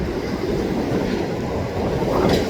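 A freight train rolls past at a rail yard in New Westminster, British Columbia, with a continuous loud rumble of railcars and wheels and a brief brighter squeal near the end.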